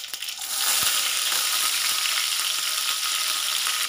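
Mustard seeds and green chillies frying in two spoons of hot oil for vegetable upma, a loud, dense crackling sizzle that swells in after a brief start and keeps up steadily, close by with no voices.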